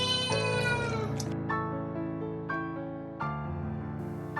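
An injured cat cries out loudly and close by in several drawn-out meows, each a long wavering wail, with short pauses between them.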